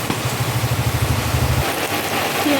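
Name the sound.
heavy rain falling outside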